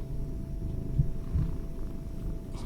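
A domestic cat purrs on a desk, a steady low rumbling drone close to the microphone, continuous and soft with slight pulsing throughout.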